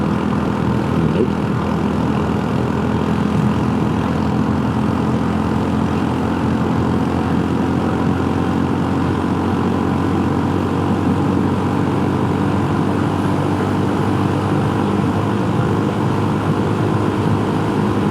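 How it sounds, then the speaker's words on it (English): Honda Super Cub scooters run flat out on a Rocky Mountains road, a steady, continuous engine drone with strong wind rush that holds at one level throughout, with no talking. "SuperCubs, flat out,"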